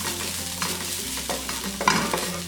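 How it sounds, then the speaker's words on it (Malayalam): Grated coconut roasts in a pan for Kerala carrot rawa laddu, a light sizzle with a few close scraping stirs of a spatula across the pan, brief and with no voices. "ഇതിലേക്ക് എടുത്തു വെച്ചിരിക്കുന്ന തേങ്ങ ഇട്ടിട്ട് ഒന്ന് റോസ്റ്റ് ചെയ്തെടുക്കാം."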